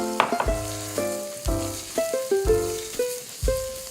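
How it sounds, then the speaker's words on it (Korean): Mushrooms stir-fry in cooking oil in a preheated pan on a studio cooking show, sizzling steadily with rhythmic tossing. Melodic background music with distinct notes plays throughout. "식용유 적당히 둘러주게 되고요. 버섯을 먼저 볶죠."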